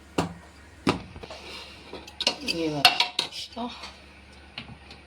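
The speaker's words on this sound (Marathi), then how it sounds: "अगोदर एक डबा ठेवून देऊया, नंतर त्याच्यावरती एक झाकण ठेवून द्यायचं आहे आपल्याला।" A metal container is set inside a pressure cooker while making chakli, giving several close, sharp metallic clanks and clinks with short scraping sounds against the quiet.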